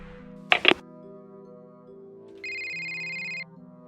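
A phone ringtone sounds for about a second, a steady electronic tone, after a brief dull knock; quiet music plays underneath throughout.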